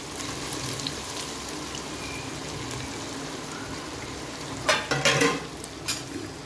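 Soft boiled potatoes dropped into hot oil in a pan, a continuous gentle frying hiss heard close, with a burst of louder crackling and spatter near the end and no talking.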